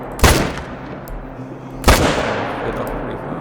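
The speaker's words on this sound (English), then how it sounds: "I'll actually shoot some of the does as well" Two loud rifle shots from a deer hunt in theHunter: Call of the Wild, each a sharp crack with a long rolling decay, the second coming about a second and a half after the first.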